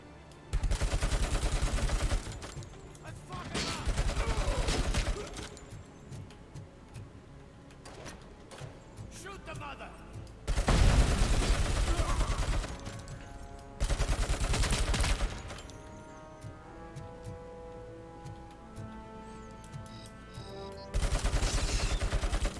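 Heavy machine gun in the video game Robocop: Rogue City, loud bursts of rapid automatic fire in several separated volleys, with quieter mechanical ticking and game sounds between bursts.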